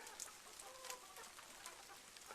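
Hens and a rooster in a backyard flock during their first snowstorm give soft, scattered clucks at moderate distance, with no talk.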